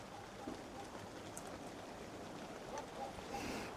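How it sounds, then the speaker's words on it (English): Steady rain falls outdoors, a constant soft hiss of drops that picks up in intensity, heard close and even throughout, with no talk. "The rain's picking up more."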